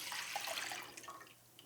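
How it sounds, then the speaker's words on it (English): Lemon juice, four cups of it, pours into a pan for lemonade concentrate, a brief quiet splashing trickle of liquid that tapers off. "We're gonna put all 4 cups of our lemon juice in a pan"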